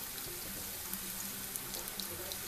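Cinnamon sugar tortilla chips fry in hot oil with a steady, dense sizzling hiss and small crackling pops throughout, close and fairly loud, with no talk.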